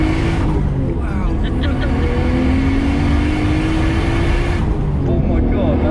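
Widebody Nissan R33 Skyline engine running loud and close for several seconds, a steady rumbling drone with a rising tone through the middle, ending in a brief lift near the end.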